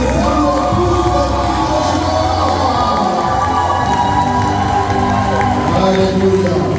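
Church congregation cheering and shouting loudly during a lively service, a dense sustained crowd roar with whoops and raised voices throughout, dipping briefly midway before swelling again.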